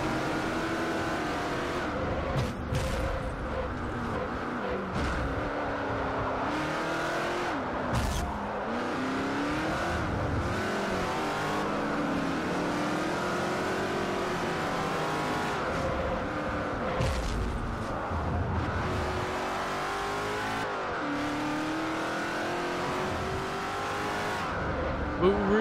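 A car in Forza Motorsport 4 on a Class A North American Tour race, its engine droning and revving steadily with gear-change dips, occasional tire squeals, and a voice talking over it at times.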